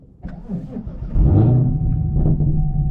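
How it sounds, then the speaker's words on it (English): A Chevrolet Camaro ZL1 1LE cranks briefly, then catches and fires up with a loud, deep rumbling idle that settles into a steady burble, recorded close up with no talking. "let's go ahead and get our start up in our Zl1"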